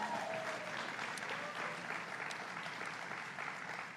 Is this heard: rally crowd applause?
yes